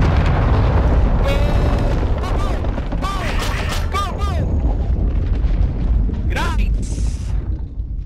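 A video game nuke detonates in a loud, sustained rumbling roar with bursts and crackles, while excited voices shout and chatter over the blast throughout.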